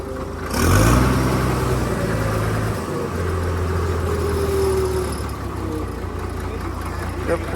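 A 100-horsepower six-cylinder Farmtrac tractor engine rumbles steadily after starting, with a brief rise in revs near the start and a continuous low drone throughout, while a person talks over it.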